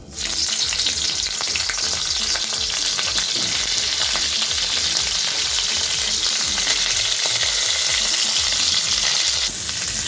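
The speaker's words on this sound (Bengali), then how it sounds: "সেই ফুলকপিটাকে ভেজে নেব।" Small chopped cauliflower florets fry in a hot pan with a loud, close, constant sizzle and crackle, stirring scrapes mixed in, running unbroken and without talk before easing slightly at the end.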